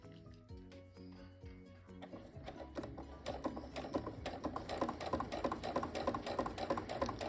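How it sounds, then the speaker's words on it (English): A sewing machine stitches quilt fabric strips with a magnetic seam guide, a slow, quiet run building into a rapid, steady mechanical whir and tapping that grows louder and denser. "I'm just patiently sewing. I'm not moving anything."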